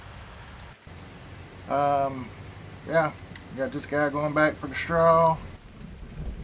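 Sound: rain in the video game Farming Simulator 19

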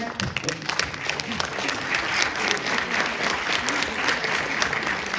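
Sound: audience applause for volunteer award nominee

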